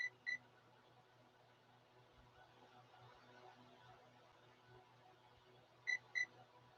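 An electronic speed controller on an Arrma EXB RC vehicle emits two quick paired beeps at the start and again near the end over a low, steady hum during motor setup.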